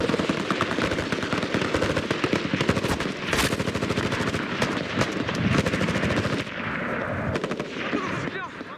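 Rapid bursts of automatic gunfire crackle almost without pause, punctuated by heavier blasts, loud and close, with a few shouted voices beneath.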